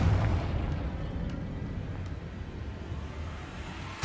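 A Confringo explosion spell goes off in Hogwarts Legacy as a loud, sustained booming rumble from a fiery blast that fills the whole stretch before a fresh impact at the very end.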